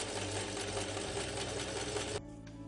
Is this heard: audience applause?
no